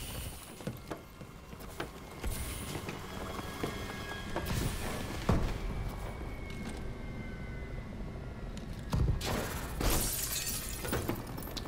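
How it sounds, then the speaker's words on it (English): Glass shattering during a Call of Duty Advanced Warfare search-and-destroy match, set in a bio lab: several bright crashes amid dense, noisy game action that runs steadily throughout. "I did not mean to break that glass."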